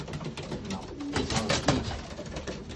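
A 19-year-old homing pigeon coos softly in low, burbling phrases, a few rising and falling calls close by with steady background noise and no speech.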